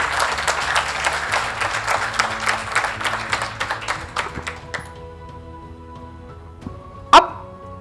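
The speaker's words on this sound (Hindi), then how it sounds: "जोरदार ताली।" An audience at a business association seminar claps in a dense, rhythmic burst of applause that thins out after a few seconds, ending with a single sharp thump near the close.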